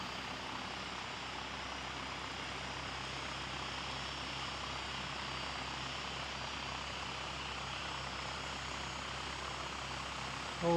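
A Flying Doctor aircraft passes near an aero club, its steady engine drone holding at a constant level throughout with no voices.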